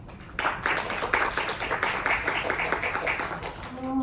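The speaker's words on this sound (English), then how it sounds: "Big round of applause." A round of applause breaks out from a conference audience in a Bangkok hotel ballroom, dense clapping starting after a short pause and holding steady, fairly close and lively.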